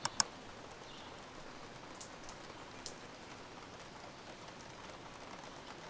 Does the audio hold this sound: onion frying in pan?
no